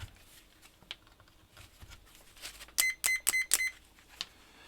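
Multimeter test leads give four quick, bright beeps in a steady rhythm during a continuity test across a row of a keyboard build with vintage black switches, heard up close after some quiet handling.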